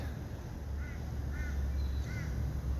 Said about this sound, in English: there we have a Toowoomba crow flying over. A few of them in the background I can hear.